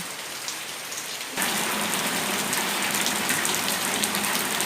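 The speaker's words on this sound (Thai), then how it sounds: "ฝนตกลงมาก็ต้นไม้ก็สดชื่นเลยค่ะ" Rain at a garden home in Sattahip, Thailand: a faint drizzle suddenly becomes a steady, dense downpour hissing on surfaces nearby, continuous to the end with no voices.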